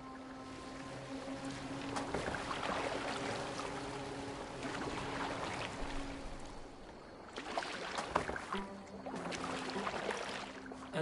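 A boat moves across the water in Assassin's Creed Valhalla, with continuous lapping and washing water over a soft wind-like hiss and a few louder splashes, and no talking.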